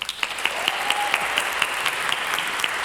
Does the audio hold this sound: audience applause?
yes